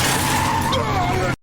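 Car in a video game racing in fast with a loud engine roar and tire squeal, then cut off abruptly at the end.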